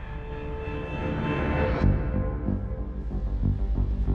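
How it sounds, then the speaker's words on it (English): Helicopter in the video game Quantum Break, a steady rotor and engine drone that builds in loudness, with a rhythmic thumping pulse emerging in the second half, heard alone. "Commander Pierce, prep the chopper."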